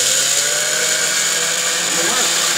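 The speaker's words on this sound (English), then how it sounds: "Make sure I have my blender on a lower setting" A blender running on a low setting chops chilies with a steady, continuous motor whir that stays loud and unbroken the whole time.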